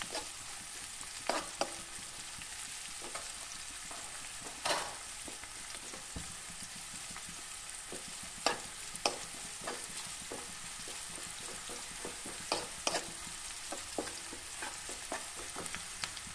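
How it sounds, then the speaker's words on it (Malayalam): Shallots and dried red chillies stir-fry in hot oil for pepper chicken, a soft steady sizzle broken by scattered scrapes and knocks of a spoon against the pan, close up with no talking. "ഇനി നമുക്കതിലേക്ക് ചെറിയ ഉള്ളി, വറ്റൽമുളക് എന്നിവ ഇട്ട് കൊടുക്കാം. നന്നായിട്ട് ഇളക്കി യോജിപ്പിക്കാം."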